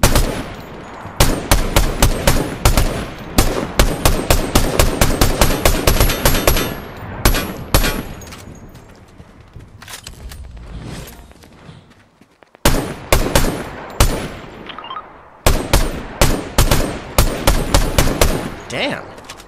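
Gunfire from the player's weapon in Fortnite, with long runs of loud, evenly spaced rapid shots that pause briefly, then resume in several more bursts, close and punchy.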